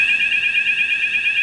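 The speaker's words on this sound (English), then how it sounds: "You have the fire alarm now, and you see everything has been extinguished." A kitchen fire suppression system has just discharged and the fire alarm sounds, a steady high electronic tone with two strong pitched bands, continuous and loud with no talk.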